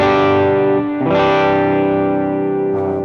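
An electric guitar patch played through a Hotone Ampero II amp modeler, a Matchless-type amp into a Fender-type cab. Sustained distorted chords ring out loud and alone, with one re-struck chord and a final strum.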